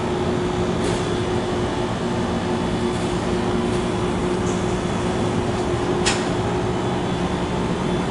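A slow MEI/KONE hydraulic elevator running inside a Super Target store in Orlando, Florida gives a steady low mechanical hum with a constant tonal drone, with faint clicks and ticks above it and no talking.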